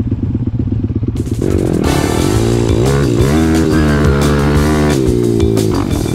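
Pit bike motorcycle engines run loud and close while riding hard enduro, a continuous buzzing drone that rises and falls in pitch with throttle changes.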